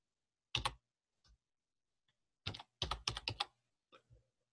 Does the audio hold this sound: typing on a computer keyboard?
yes